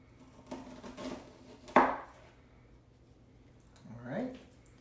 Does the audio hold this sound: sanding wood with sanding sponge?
no